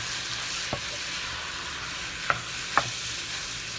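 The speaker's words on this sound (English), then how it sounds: "I'm just going to saute everything together" Bolognese ingredients sauté together in a pot, with a steady hiss of frying and three sharp spoon knocks against the pot spaced across the stretch.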